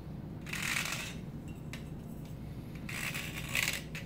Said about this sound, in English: You get your Stanley knife, and then just gently just deburr inside the tube